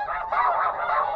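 Snow geese honking in a close, loud flurry of overlapping calls during a Missouri spring conservation-order hunt.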